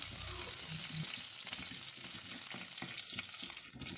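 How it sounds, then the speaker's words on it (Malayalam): Green chillies slit down the middle, curry leaves and fenugreek sauté in hot oil in a clay pot for a Kerala mackerel curry, a steady close sizzle with soft stirring scrapes and no voices. "ഒരല്പം കറിവേപ്പിലയും ഇതിൻ്റെ കൂടെ ഇതുപോലെ 2 പച്ചമുളക് നടുവേ കീറിയതും ചേർത്ത് അല്പനേരം ചെറുതായി ഒന്ന് വഴറ്റി"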